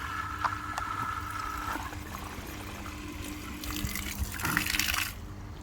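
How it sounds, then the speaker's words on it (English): Washing machine drain pump (WMS E11) running outside, lifting water up through a hose into a bucket; a low steady motor hum under gurgling, splashing water flow, fairly quiet, with a brief surge near the end. "so you could hear the actual pump doing work"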